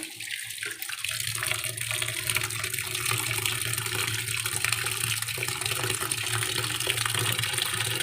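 Tap water runs steadily into a vessel for washing drumstick (moringa) leaves for soup, a continuous close splashing stream that begins after a brief quiet moment and continues without talk.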